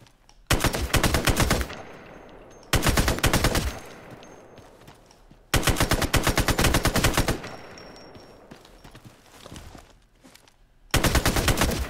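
Four long bursts of rapid automatic gunfire on a firing range in the video game Ghost Recon Future Soldier, loud and close, each burst followed by a fading echoing tail and brief quiet.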